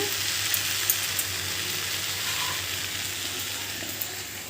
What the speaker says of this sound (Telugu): ఈ విధంగా బాగా రోస్ట్గా ఫ్రై చేసుకోవాలి